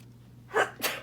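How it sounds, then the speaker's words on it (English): A single sharp human sneeze, loud and close, with a quick second burst right after, made at a craft table beside a low steady hum. "something over here is really making me sneeze"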